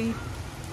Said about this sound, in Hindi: फाइनली बारिश हो ही गई है।